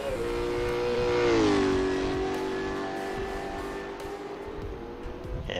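A Nissan Altima Supercar engine in a racing video game at Bathurst drones at a steady pitch, dipping and then holding as the car climbs the mountain, loud and continuous.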